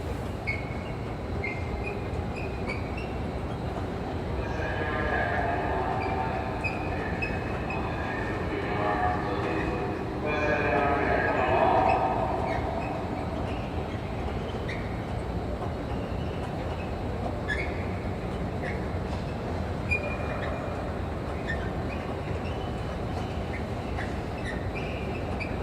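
Train rumbling at Moynihan train station in Manhattan, a long steady roar of rolling wheels with squealing metal rising and fading in the middle, heard from the platform amid a station crowd murmuring in the background.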